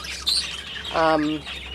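Breeding hens and cocks kept in boxes give a short high chirp, then a louder tonal squawk, close by over a low background hum.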